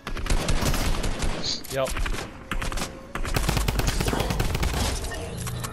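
Rapid automatic gunfire in a squad-based shooter game, loud dense bursts firing nearly continuously with a brief pause midway, while a player speaks briefly over it.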